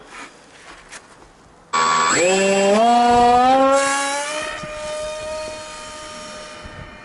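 An FT Viggen foam RC model jet, electric-powered, whines close by as the motor spools up suddenly to a loud, steady high-pitched drone with rising harmonics, then eases slightly in pitch and volume as it flies.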